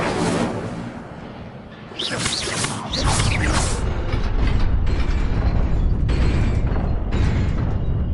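Incendio fire spell cast in Hogwarts Legacy on PS5, a loud burst and whooshing roar of flame that swells then settles into a sustained crackling rush, dense and close.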